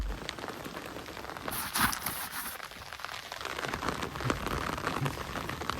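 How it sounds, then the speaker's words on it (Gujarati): Rain falling on a village morning, a dense, even patter on surfaces close by, with brief louder splashes and rattles mixed in, no voices. "વરસાદ હજુ સારું ચાલુ"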